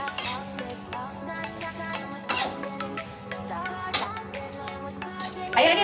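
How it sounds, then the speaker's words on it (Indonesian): A utensil scrapes and taps against a pan in irregular strokes while stirring sautéed oyster mushrooms with about 200 ml of water, with soft clinks and a faint steady hum behind. "Ini kita aduk-aduk lagi."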